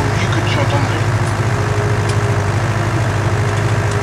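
A tractor engine idles in a farming video game on PC, a steady low droning rumble that stays loud and even throughout with no other sounds over it.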